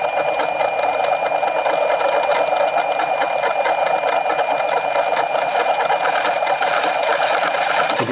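Two counter-spinning magnetic disc rotors, one driven by six wire coils on a three-phase power supply, give off a steady, loud mechanical whir with a dense buzzing hum that holds constant throughout, with no talking.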